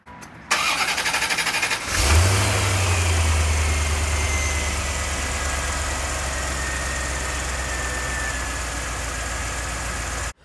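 A 1989 Chevrolet Corvette C4 engine cranks and catches after a brief pause, then settles into a loud, steady idle with a low rumble that continues to the end.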